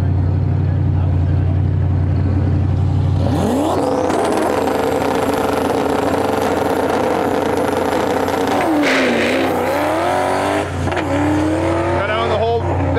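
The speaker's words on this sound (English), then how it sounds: "we got the stick shift Mustang pulling up the line right now" A stick-shift Ford Mustang launches hard down a drag strip, its engine climbing from a low idle into a loud, rising roar with gear changes, then dropping and rising again near the end.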